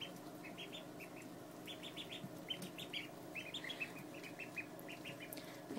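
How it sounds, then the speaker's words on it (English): Four two-week-old ducklings peep in rapid, high, overlapping bursts. They sound close but faint, over low indoor background noise, with no talk. "Here are the ducks at 2 weeks old."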